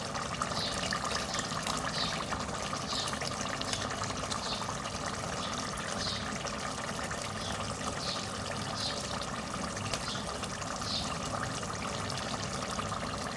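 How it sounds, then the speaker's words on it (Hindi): Cream poured into chicken handi in a pan over low heat gives a steady, even liquid pour with a soft continuous wash of sound and no talking. "फाइव टेबल स्पून मैं इसमें क्रीम डाल रही हूँ।"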